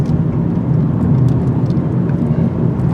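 A 2022 Honda Civic Si, front-wheel drive with performance suspension, rounds a tight turning circle, its steady low engine and road drone loud and continuous with no talk over it.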